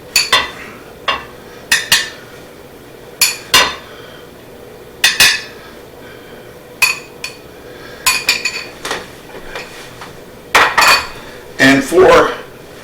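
Dishes and cutlery clink and clatter in scattered close bursts as Mexican rice is plated in a kitchen, with a quiet gap between knocks and a busier scrape of utensils at the end.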